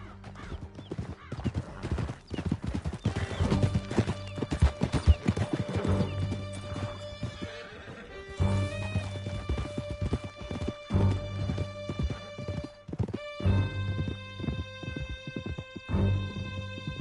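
Horses gallop in Red Dead Redemption 2, a loud, fast clatter of hooves running through a canyon, with neighing and a musical score swelling over the action.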